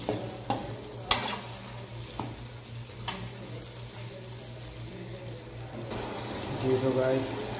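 Peas frying and being stirred in a pan for macaroni, a steady sizzle with sharp scraping knocks from the spoon, while a voice talks quietly near the end.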